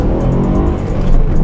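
A BMW M3 E92's naturally aspirated V8 revs hard close by, a loud, throaty, dense rumbling roar that swells slightly toward the end.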